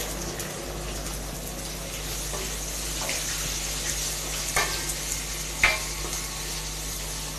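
Curry leaves, onion and dried red chillies sizzle in hot oil with sesame seeds, a continuous close frying hiss broken by a few sharp crackles and stirring scrapes.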